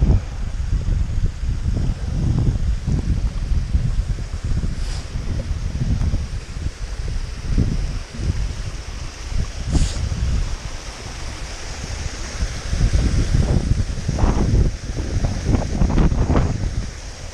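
A waterfall on Roughton Ghyll, a steady broadband rush of falling water mixed with gusty wind buffeting the microphone, loud and close throughout with a few louder surges near the end.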